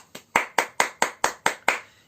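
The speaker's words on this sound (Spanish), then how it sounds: "Un aplauso para todos los peques." Seven evenly spaced hand claps ring out in a quick, steady rhythm, close and moderately loud, with no talk.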